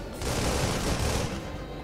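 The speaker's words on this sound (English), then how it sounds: "Some cannon fire." Cannon fire in the aerial combat video game Project Nimbus comes as a dense, rapid burst of rumbling shots, loud and continuous for over a second before easing back into background engine noise.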